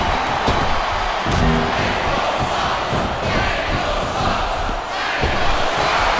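Dense arena crowd noise from a capacity audience in the wrestling game WWE SmackDown vs. RAW 2007, a steady loud roar with cheering swells and scattered thuds throughout.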